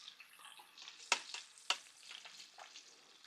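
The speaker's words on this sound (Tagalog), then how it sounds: "pati yung mga bawang, paminta, yan, may pamintang buo, medyo ma-roast ng konti yan" Garlic and whole peppercorns frying in hot oil, a steady close sizzle and crackle with a couple of sharp pops, cooked for Marikina-style pinatuyuang adobo.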